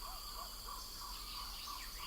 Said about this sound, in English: the mangrove habitat along its edges attracts mangrove species like these canary white-eyes and some lemon-bellied fly robins